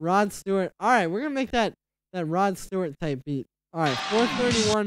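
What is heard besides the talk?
No everyday noises stand out.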